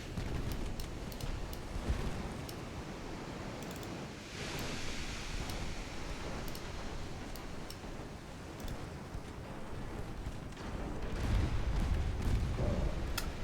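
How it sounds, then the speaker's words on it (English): Torpedo striking a warship in a British naval campaign game, a dense rumbling explosion and churning water wash that swells again near the end, with a few sharp crackles on top. "torpedo hit from somebody"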